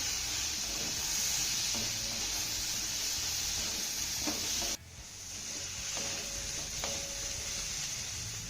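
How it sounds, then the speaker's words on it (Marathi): Okra steaming in a covered pan, giving a steady close sizzling hiss that drops sharply when the lid comes off, followed by a few soft stirring scrapes from the bottom, with no talking. "त्यानंतर ही भेंडी ना आपल्याला एकदा तळापासून चांगली हलवून घ्यायची आहे"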